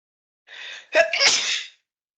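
A single sharp sneeze, preceded by a brief indrawn breath, loud and close, then silence.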